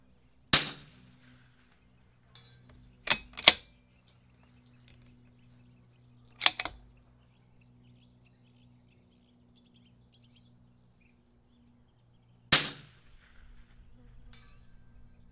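Rifle shots at a 300-yard range with Lapua Super Long Range ammunition, five sharp cracks spread over about fifteen seconds, two close together, each standing alone against a quiet hum.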